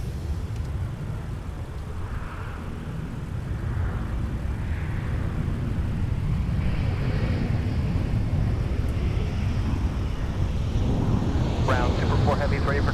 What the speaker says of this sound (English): gently does this aircraft glide down towards the runway to make a landing